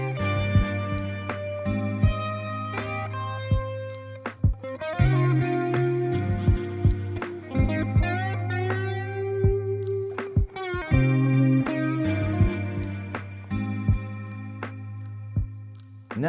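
Lo-fi music track with tape saturation and gentle compression, warm slightly distorted keys and bass under steady drum hits, a continuous full mix at even loudness with no talking.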